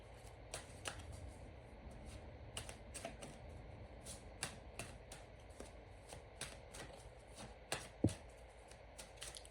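A Dreamscape Oracle card deck is shuffled over and over, a soft, steady riffling and flicking of cards close by, with a few sharper snaps and no voices.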